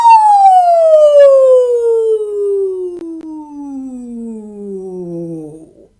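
A single voice performs a vocal siren exercise, one long continuous glide from high to low pitch lasting several seconds, clear and close, imitating an emergency siren.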